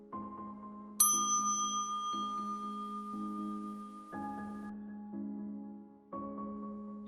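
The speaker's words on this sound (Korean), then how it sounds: "그때 우리 등 뒤로 다시 엘리베이터 종소리가 들렸어" Bright electronic elevator chimes ring out one after another in a horror radio drama, each ding sustaining and fading before the next lower or higher tone sounds, alone and fairly loud.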